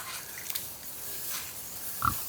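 Young female pigs at feeding time on a farm, giving a faint grunt or two over a quiet, steady background hiss, with no talking.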